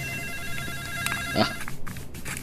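Cellphone ringtone in an Ilocano drama scene, a steady electronic melody ringing continuously at moderate loudness with a few brief rustles and knocks around it.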